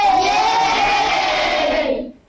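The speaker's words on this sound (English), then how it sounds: "Give us a wave and a cheer in your classrooms if you did." A classroom crowd of children cheering and shouting together, a loud sustained burst of whoops that fades out at the end.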